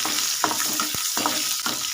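Crushed garlic sautéing in hot oil in a pan, a close, steady crackling sizzle with a few soft stirring scrapes at intervals.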